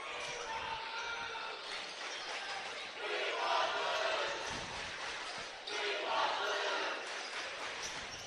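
Eastern Hancock's student cheer section chants in a high school gym during a boys basketball senior night game against Hagerstown. It is a dense, steady crowd roar that swells in waves, heard from a distance.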